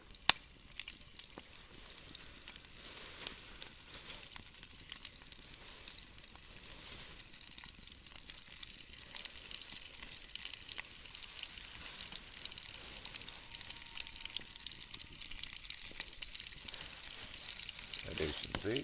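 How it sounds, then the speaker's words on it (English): Thick bacon frying in a pan for jalapeño pepper jack bacon burgers, a steady soft hiss and crackle running throughout at low level, with faint speech-like murmur in places. "some bacon going for burgers."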